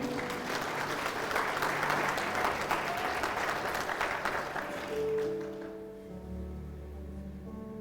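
A crowd claps loudly and steadily for several seconds, then the applause fades out as a low musical tone lingers.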